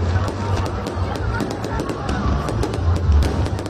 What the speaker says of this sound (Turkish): Körfez'den lazer ve havai fişek gösterileri yapıldı.